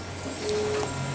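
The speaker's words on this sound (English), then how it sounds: "this is our new big 3D printer" A large 3D printer runs with a low, steady mechanical hum and faint whine, quiet and continuous indoors with no voices.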